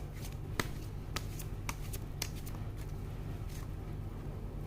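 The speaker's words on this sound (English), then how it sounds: "Let's get a few more cards out." Tarot cards are shuffled and drawn from the deck, giving sharp snapping flicks at irregular intervals over a low steady hum, close and fairly loud.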